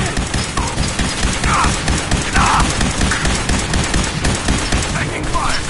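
Sustained automatic gunfire in a video game battle, rapid continuous bursts filling the whole stretch at close range, with shouted voices cutting through briefly.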